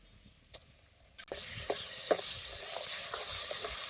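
Stone-ground masala paste is dropped into hot oil in a pan and bursts into a loud, steady sizzle after a few soft stirring clinks, frying continuously with occasional scraping taps.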